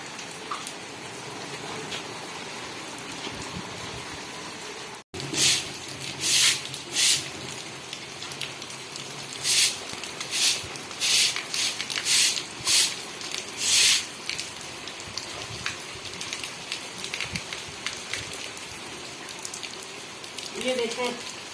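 Rain pours steadily in a village, a dense hiss with bursts of heavier splashing and drumming on surfaces, close by and continuous, briefly cut off near the start before resuming.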